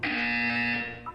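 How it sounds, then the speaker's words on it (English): Steady electronic buzzer from the Portal 2 video game test chamber, one sustained harsh tone lasting about a second, loud and clear with no talk over it. "When you hear the buzzer, look up at the ceiling."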